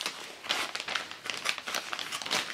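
Paper and plastic wrapping crinkle and crumple in close bursts as a parcel of knitting and crochet magazines from Éditions de la Rose is opened by hand.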